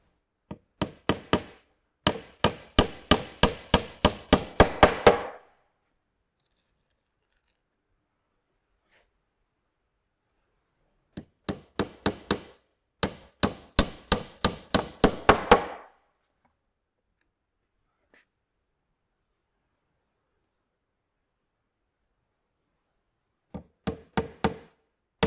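Nails are hammered into a wooden gabled bee hive roof in three bursts of rapid, evenly spaced taps, each run lasting a few seconds and separated by long silent gaps, close and clear.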